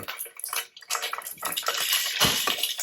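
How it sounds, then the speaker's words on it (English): Polenta wedges dropped into hot oil in a frying pan, giving a loud, steady sizzle with crackling spatter that builds and holds throughout. "And I will put the wedges in the pan."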